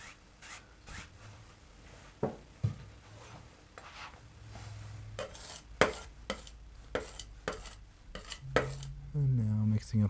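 Oil paint being mixed on a palette with a knife or brush: scattered scrapes, taps and dabs at close range, uneven in rhythm, with a few sharper clicks and a low hum building near the end.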